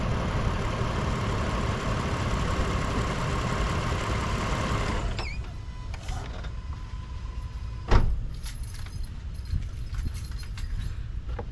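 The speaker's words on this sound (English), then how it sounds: "So let's shut the engine off." A Mitsubishi Montero engine idles steadily with a broad rumble, then is switched off about halfway through. The noise cuts to a quiet hum, and a single knock follows a few seconds later.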